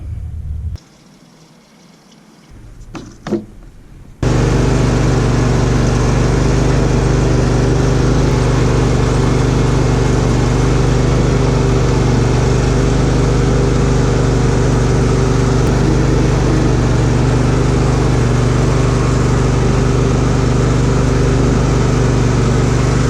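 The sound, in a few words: riding lawn mower being driven after steering repair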